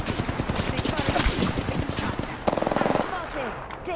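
Rapid automatic gunfire in a battle royale video game: bursts of quick shots in a steady rhythm, then a second sharper burst, with a voice speaking over the shooting.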